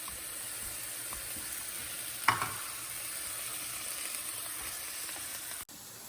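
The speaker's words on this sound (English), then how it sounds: "My onions and garlic are sauteed." Onion and garlic sauté in a pot for white chicken chili, giving off a faint, steady sizzle. A single light clank stands out partway through.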